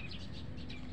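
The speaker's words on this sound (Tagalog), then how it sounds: "Naririnig nyo yung huni ng mga ibon." Small birds chirp faintly in a home garden during carrot seed planting, with light tweets scattered over a steady low background hum and no talking.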